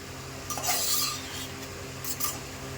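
Eggplant pieces being stirred in oil for vankaya curry: two bursts of scraping and clinking from a spoon against the pan over a faint, low background hum, with no voices.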